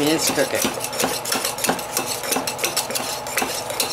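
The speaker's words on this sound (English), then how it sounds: "You just stir it out." A hot shave soap mixture is stirred steadily in a pot, with continuous close scraping and clinking strokes of the utensil against the sides in a busy, even rhythm.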